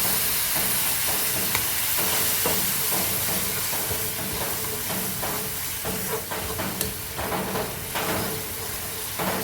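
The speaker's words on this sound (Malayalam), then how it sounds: "അല്പം ചൂടുവെള്ളം ഒഴിച്ച് കൊടുക്കട്ടോ" Boiling water poured into a sizzling Angamaly-style prawn roast gravy gives a loud, steady sizzle and steamy hiss with faint stirring clinks, close by and without talk.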